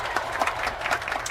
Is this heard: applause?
yes